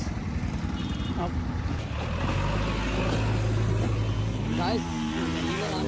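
Cars pass on the road to Raikal waterfalls, a rumbling engine and tyre noise swelling past up close while people talk over it throughout.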